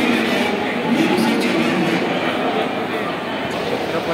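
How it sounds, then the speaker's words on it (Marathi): Suburban local train at Mumbai's CSMT terminus, a steady mid-distance rumble and rattle of carriages, with station crowd noise and voices throughout. "एक ट्रेन मुंबईकडे येत आहे"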